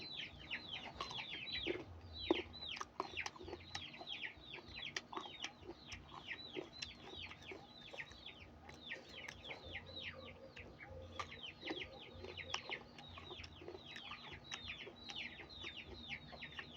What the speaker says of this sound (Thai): มีเสียงไก่แน่เด้อพี่น้องเด้อ